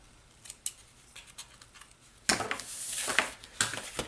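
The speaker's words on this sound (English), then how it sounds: "And I'm going to tidy up this bow just a tad. Trim the ends again." Scissors snip the ends of a ribbon bow on a craft treat box, with a few faint early clicks and then sharper, louder cuts close by.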